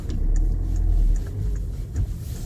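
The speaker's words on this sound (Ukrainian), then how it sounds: "я от їду по місту" A car drives through city streets, heard from inside as a steady, close engine drone and low road rumble that carries on without a break. No one speaks.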